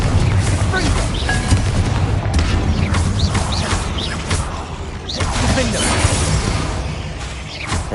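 Confringo spell blasts in the Hogwarts Legacy video game: a run of loud, booming explosions with crackling bursts, close and dense over a constant rumbling background, with a voice calling out spells among them.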